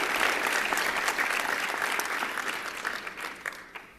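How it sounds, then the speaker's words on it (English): An audience at an awards ceremony applauds the event organizers with a warm, dense round of clapping that swells early and gradually thins and fades toward the end, with no speech over it. "Let's give them a warm round of applause."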